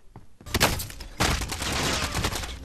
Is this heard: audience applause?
no